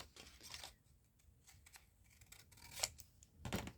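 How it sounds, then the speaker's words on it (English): Scissors snipping through a paper pack cover sheet, several close crisp cuts in irregular bursts, the last ones loudest, with no voices. "Cut along here under the shadow line that's around the label."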